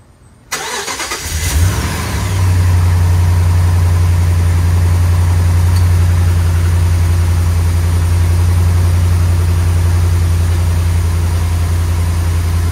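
A 2010 Ram 1500 pickup's engine cranks and catches after a brief quiet moment, then settles into a loud, steady low idle that runs on without a break.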